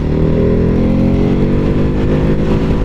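A Ducati Hypermotard 950 engine in sport mode hums steadily up close, its pitch climbing gradually as it revs, loud and continuous without any talking.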